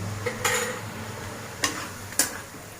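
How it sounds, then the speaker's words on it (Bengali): Spice paste and potatoes fry in a pan with a soft low sizzle, broken by a few sharp scrapes and clinks of a spatula stirring against the metal. "আলু দিয়ে একটু মশলাটা কষিয়ে নিই ভালো করে"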